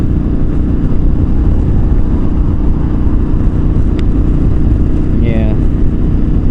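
KTM 1290 Super Adventure R motorcycle ridden hard off-road, a loud, steady engine and wind roar filling the whole clip without a break, with a brief muffled voice near the end.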